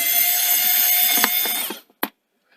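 A screw being undone inside an Asus C300 Chromebook during a power socket repair: a steady mechanical whirring with a few small ticks runs for under two seconds, stops, and is followed by a single sharp click in quiet.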